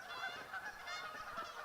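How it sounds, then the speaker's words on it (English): Geese honk in a quick series of nasal calls, faint and somewhat distant, overlapping one another for a moment. "Shut up, geese."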